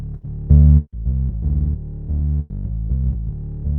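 Bass pedal sample from the Bad Cat sample pack, a dynamic and ribbon mic blend with distortion added, playing a short sequence of thick, gritty bass notes with a louder burst near the start, alone without talk.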